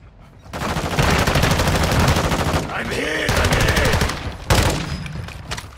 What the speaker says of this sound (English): They're shooting where I marked them, red marked them.